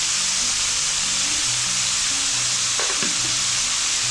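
Chopped tomatoes, with salt, frying in a pan for a spicy potato bhaji: a steady, loud, close sizzle throughout, with a brief scrape of a utensil near the end.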